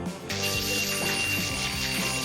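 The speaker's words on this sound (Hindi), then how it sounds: "फायर अलार्म, ये तो ठीक नहीं है।" A cartoon school's fire alarm rings loudly and without a break, a rapid metallic bell-like rattle that pulses for about two seconds.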